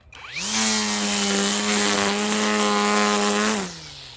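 A Koblat 24V brushless electric string trimmer spins up to a steady high whine with a strong harmonic hum, holds it for about three seconds close by, then winds down; no voices.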